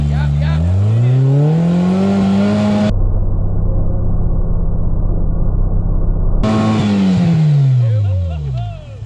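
A 16-valve off-road vehicle engine revs hard while climbing rocks, a loud, close, sustained roar whose pitch sweeps up and down, with a brief cut-out in the middle and the revs easing off at the end.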